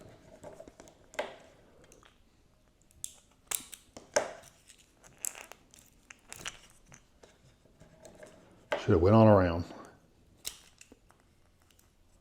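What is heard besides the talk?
scissors cutting a plastic straw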